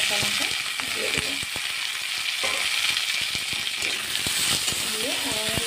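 Chopped tomato and green chilli hit a pan of onion, garlic and ginger already fried until red, crackling in a loud, continuous sizzle with stirring clatter while a voice talks over it.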